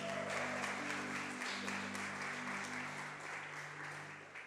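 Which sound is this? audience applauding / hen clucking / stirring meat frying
audience applauding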